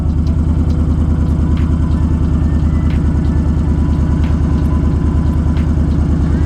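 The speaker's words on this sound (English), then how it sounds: "Right now it's idling higher" A Honda Fury motorcycle engine with a Power Commander V idles steadily, slightly high, loudly up close, a fast even low throb with no revving, continuing unbroken throughout.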